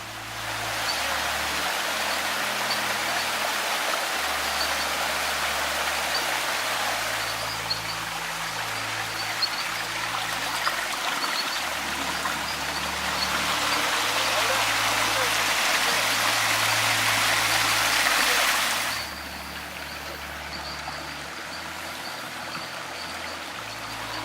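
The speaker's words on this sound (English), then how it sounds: "The water flowing through this gorge" Water rushes steadily through a stream in a gorge in Los Tunos natural park, a constant close hiss of flowing water with a low tonal bed beneath it, swelling slightly near the end.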